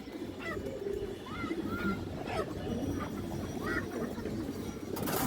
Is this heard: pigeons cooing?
yes